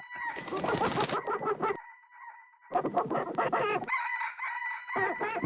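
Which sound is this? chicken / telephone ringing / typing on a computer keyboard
chicken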